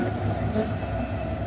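A Paris metro train running through an underground station, a steady loud rumble of wheels and motor that fills the whole stretch.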